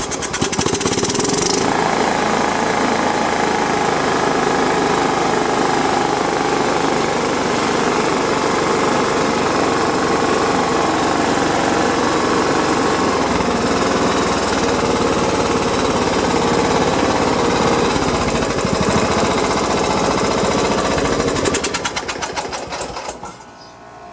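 Kawasaki FC420V engine on a John Deere 170 lawn tractor, running loud and close with a steady rapid rattling drone for about twenty seconds before cutting off.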